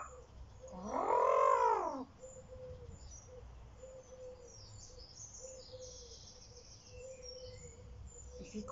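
A one-eyed pigeon lets out a single loud throaty coo just after landing, followed by quiet background with faint distant sounds.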